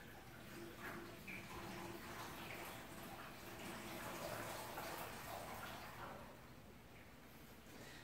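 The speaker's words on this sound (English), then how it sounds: "here's the hot water." Hot water runs in a steady, even hiss from a tap during fuel tank restoration work on a 1984 Porsche 944, faint and continuous with no talking.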